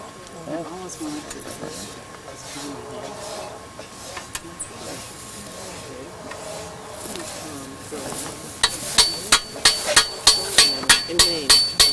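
A metal hammer strikes a heated piece at a smithing demonstration, first a few scattered knocks under conversation, then a quick, regular series of sharp, ringing blows near the end.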